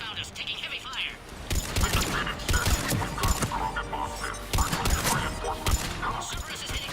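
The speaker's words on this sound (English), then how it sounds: "Commander Cerberus found us, taking heavy fire." Heavy gunfire in Mass Effect 3 during an attack by Cerberus forces: dense bursts of rapid shots and thuds, with mechanical clanks and game effects in between.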